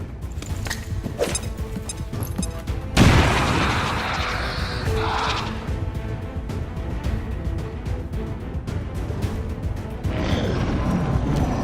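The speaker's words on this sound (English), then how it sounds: "Grenade!" Grenade blast in the video game XCOM 2, a sudden heavy boom a few seconds in followed by rumbling debris and scattered gunfire amid battle noise.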